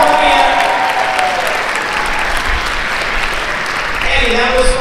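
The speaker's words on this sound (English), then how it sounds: "let's give a big round of applause" Audience applause at a live exhibition show, loud continuous clapping sustained from start to finish, with voices audible over it at the beginning and again near the end.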